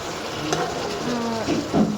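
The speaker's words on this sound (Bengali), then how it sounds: "মশলার মধ্যে আলুগুলো দিয়ে আমি ভালো করে কষিয়ে নেব" Pressure-cooker-parboiled potatoes sauté in a pan of spice masala, giving a steady close sizzle with a few soft stirring clatters near the end.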